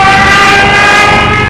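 A Jericho horn siren from a German Second World War dive bomber wails loudly as a steady, piercing, multi-toned scream, then cuts off abruptly.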